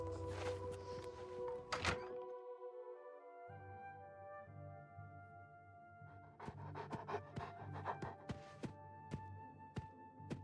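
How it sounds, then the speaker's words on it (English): A dog pants rhythmically in Oblivion Remastered, close and quiet, between soft thunks and other ambient game sounds. "There's her dog."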